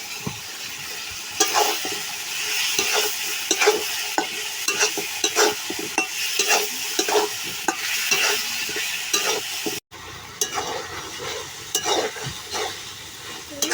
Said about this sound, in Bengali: গোস্তগুলো দিয়ে দিব।